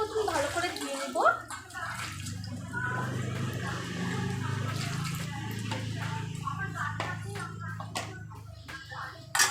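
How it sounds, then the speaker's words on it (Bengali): Water splashes and runs steadily as a mango is rinsed by hand, with a voice talking over the sound for much of the time. "আমটা প্রথমে ভালো করে ধুয়ে নেব।"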